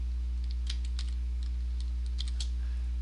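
Typing a route code on a computer keyboard: a brief burst of separate key clicks in two short clusters, close and fairly crisp, over a steady low electrical hum, with no talking.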